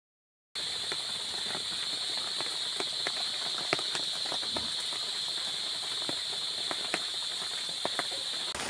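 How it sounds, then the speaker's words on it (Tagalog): Coconut milk and pechay simmer in a pot for ginataang bulalo, giving a steady hiss with a constant high whine and scattered small pops and bubbles throughout. "pakaluan lang pa natin ng ilang minuto yung ating gata at yung pitsay"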